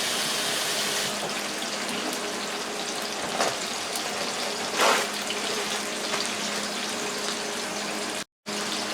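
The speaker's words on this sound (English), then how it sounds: "let me wash my hands and join you in a minute" Tap water runs steadily into a kitchen sink during hand washing, a constant close hiss with a couple of brief splashy surges before it cuts off near the end.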